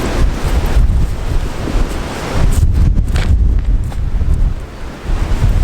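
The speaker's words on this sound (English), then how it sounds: "Wind!" Strong wind blows outdoors in Iowa, a loud, constant low roar buffeting the microphone with rushing gusts that rise and dip throughout, close and unbroken, with no one speaking.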